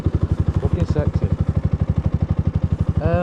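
Engine of a 2014 Yamaha YZF-R125 motorcycle running at a steady idle, a close, regular pulsing throb throughout with a brief rising rev near the end.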